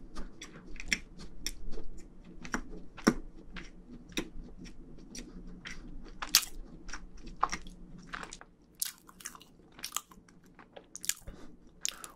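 Close, quiet bites and steady chewing of a scone spread with jam, soft crunchy and moist mouth sounds repeating at an even pace for several seconds with no talking.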